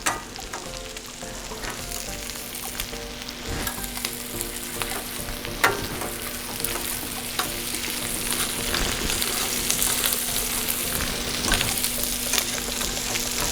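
Green Thai curry paste sauce sizzles and fries in a pan, with steady crackling and repeated scrapes of stirring throughout, close and alone without talk.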